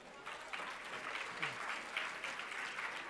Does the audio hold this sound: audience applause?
yes